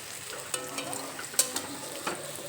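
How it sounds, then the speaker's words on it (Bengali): Pumpkin slices fry in a pan for a mash-style bhorta, a steady soft sizzle with a few brief clinks and scrapes scattered through, fairly quiet and with no talk. "এক সাইড ভাজা হওয়ার পরে কুমড়ো উল্টে দিলাম"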